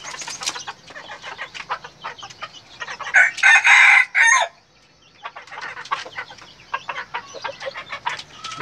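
A red jungle rooster crows once, loud and close, in a drawn-out call amid a chorus of softer clucking and chirping from nearby fowl.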